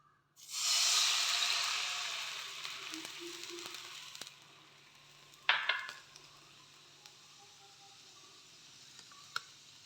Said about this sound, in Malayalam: ഈ പാനിലേക്ക് ചൂടായി വന്ന പാനിലേക്ക് ഈ പാൽ ഒഴിക്കുന്നു